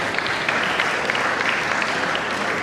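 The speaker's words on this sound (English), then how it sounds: "You all deserve a round of applause." Audience applause fills a law week ceremony of a bar association branch, a steady dense wash of many hands clapping at even loudness from start to finish, with no voices above it.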